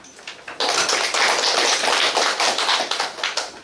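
An audience at a public debate on stricter licence renewal for elderly drivers claps to welcome the debate team. The applause starts abruptly after a few scattered claps and then holds as a dense, steady patter for about three seconds.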